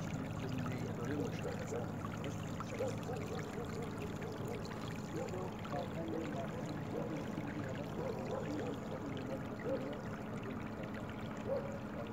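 Qanat water flows through a village channel in a steady, continuous rush and trickle, dense and fairly close, unchanging throughout with no voices.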